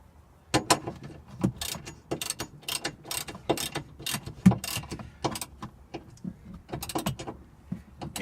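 A ratchet tightens the nuts on a JDM rear strut bar during installation, giving close, crisp bursts of rapid clicking separated by short pauses.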